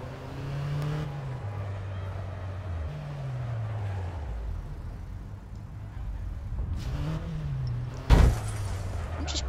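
A car's engine in the APB Reloaded video game hums and shifts pitch as it drives and accelerates, ending with a sharp crash-like impact; no talk is heard.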